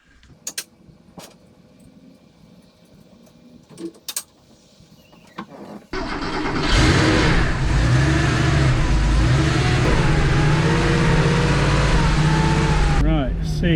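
A car engine starts and runs steadily after a reverse light repair, the drive beginning after a few sharp clunks and handling sounds, then holding a loud continuous engine rumble until it cuts off near the end, with some talk.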